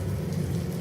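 Steady rain falls across an alley in a video game, a continuous dense hiss and patter with low rumble throughout the short stretch, no voices over it.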